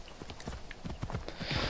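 Horse hooves clip-clop in a quick, even gallop rhythm in Assassin's Creed Odyssey, moderately loud, with a rushing wind-like swell toward the end.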